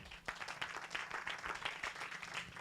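A church congregation applauds steadily, many hands clapping at once with a dense, continuous patter at moderate volume.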